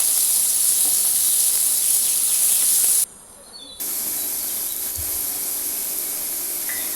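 Onions and curry leaves sauté in a pan with a constant, close hiss and sizzle, broken by a brief dip partway through, with no talking.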